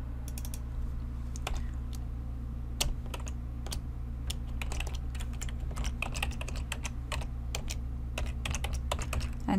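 Keys clatter on a computer keyboard in irregular bursts of crisp, close clicks, with steady typing running throughout over a low background hum.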